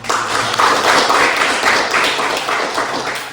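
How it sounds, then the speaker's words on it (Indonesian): Audience applause at a religious lesson on charity, steady dense clapping sustained throughout at moderate loudness with no talk over it. "terima kasih tepuk tangan"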